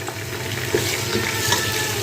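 Tomatoes hiss and bubble in a pan as they are stirred for vegetable biryani, giving a steady close sizzle with a few soft stirring knocks.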